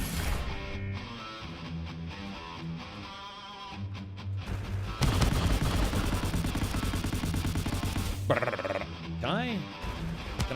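Gunfire in a Steam video game demo, where the player also fires missiles: rapid, dense bursts of shots that take over midway, mixed with tonal electronic game effects and sweeping zaps.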